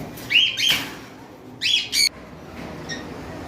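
Cockatiels and lovebirds at a bird farm, two close bursts of shrill, squawking calls separated by a pause, with a faint chirp afterward over quiet background.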